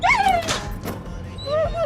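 A dog whimpers and yips in a few high, wavering whines, near and fairly soft, over a low background rumble.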